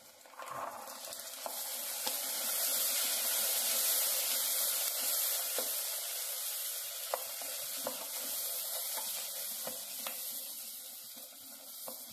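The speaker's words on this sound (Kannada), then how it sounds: "ಎಣ್ಣೆಲೆ ಬಟಾಣಿ ಹಾಕ್ತಾ ಇದ್ದೀನಿ ನಾನು." Fresh green peas frying in oil in a pan with turmeric, a continuous bright sizzle and hiss with scattered crackles and stirring clicks, close and moderately quiet, no voices.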